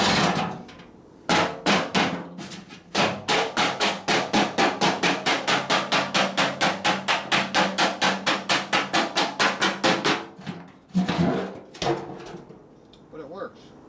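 Hammer blows on the rusty body metal of a 1958 Ford F100 pickup, struck against the ground with no dolly: a long, steady run of sharp, loud metallic strikes at a quick even rhythm, a short pause, then a few more hits.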